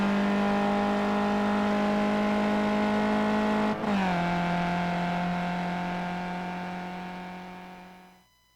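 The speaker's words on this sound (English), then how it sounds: "as the little Skippy chugs uphill past the pit entry" A little Skippy race car engine drones steadily as it chugs uphill past the pit entry at Road America, holding a constant buzzing note with a brief dip midway before fading away into the distance.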